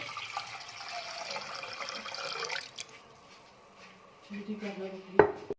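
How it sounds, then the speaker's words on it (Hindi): About a litre of water pours into a pot on a low flame as kahwa tea is made, with a faint splashing trickle followed by a clink of metal against the pot near the end. "तो लो फ्लेम पे तकरीबन मैं 1 लीटर पानी ऐड करूँगा।"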